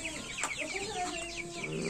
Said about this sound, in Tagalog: Ayan mga broiler.